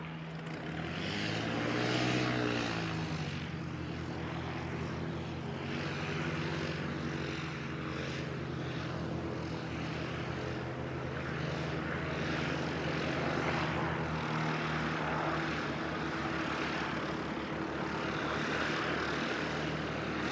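A passenger airliner, Air New Zealand flight NZ278 from the Gold Coast, approaches Christchurch Airport with a steady, loud engine roar that holds for about twenty seconds, swelling slightly early on, with no one talking.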